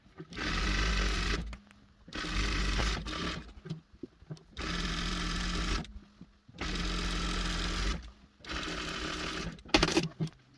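A sewing machine stitches baby clothes made without a pattern, running in five long loud bursts separated by short pauses with small handling noises, close up and without talk.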